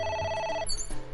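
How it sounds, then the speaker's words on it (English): An in-game telephone in AI: The Somnium Files rings with a warbling electronic tone for about half a second, then cuts off and gives way to quieter game sounds. "Again with the phone. It's ringing again."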